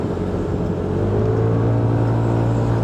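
A Kymco scooter accelerates on the road, its engine whirring and rising in pitch steadily as it pulls, with wind noise and no talk.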